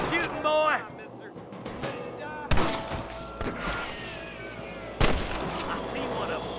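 Gunfire in Red Dead Redemption: a few sharp, loud shots cracking out amid a busy gunfight, with voices calling out over the scene and other game noise in between.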